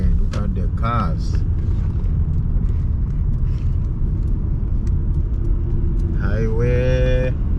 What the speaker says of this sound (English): Look at the cars.